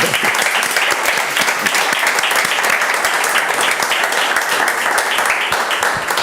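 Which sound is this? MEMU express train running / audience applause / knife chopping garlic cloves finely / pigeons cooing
audience applause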